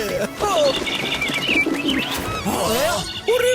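Cartoon birds cooing and chirping in a dense, lively cluster throughout, with cartoon voices talking at moments over the calls.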